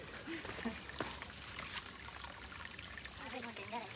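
A stream of water flows near Antharaganga waterfall in Hyderabad, a steady close trickle and splash under outdoor ambience while people talk nearby.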